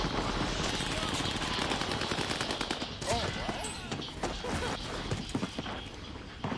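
Automatic weapon fire in the Warzone battle royale game, rapid clattering bursts of shots repeating throughout, mixed with game sounds and a voice talking over it.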